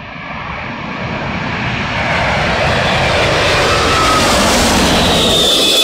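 A loud airliner engine roars close by as the aircraft comes in to land in a gusty Storm Dennis crosswind, a broad steady rumble and whine that swells and holds throughout with no talk.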